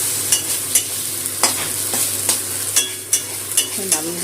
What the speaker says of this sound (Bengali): ভাজা ভাজা করে নেবো তেলের মধ্যে।